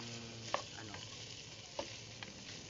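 Octopus sautéing in a pan gives a continuous close sizzle, broken by a couple of sharp stirring knocks and scrapes, with no one speaking.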